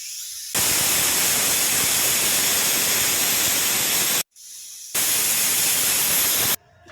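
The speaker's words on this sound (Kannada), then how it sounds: "ಎರಡು ವಿಸಿಲ್ ಕೂಗಿಸ್ಕೋಬೇಕು" A pressure cooker of chicken chops vents steam in a loud, continuous hiss that cuts out briefly and then resumes, close by with no talk.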